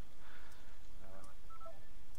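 A telephone line gives a few faint electronic tones as a call disconnects. The sound is quiet and brief over a steady background hiss, with soft voices nearby.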